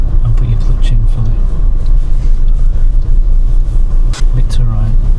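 A car's engine rumbles steadily from inside the cabin as it slows and brakes gently to a stop during a driving test, with voices talking over the low drone.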